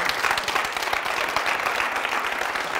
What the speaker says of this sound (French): Applaudissements pour la Jaguar.